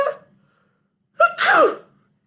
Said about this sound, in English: And how do we sneeze?